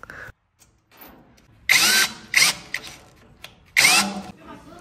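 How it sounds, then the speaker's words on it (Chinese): A cordless power drill drives a screw into a wooden board while a TV wall mount is installed, with two or three loud whirring bursts separated by short pauses, close to the listener. "先打开给它拧个螺丝，直接拉到木板上。"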